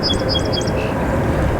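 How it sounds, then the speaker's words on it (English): Birds chirping outdoors near Boston Logan Airport, a few quick high tweets in the first second over a steady low rumble of background noise. "We also got the birds chirping around us here."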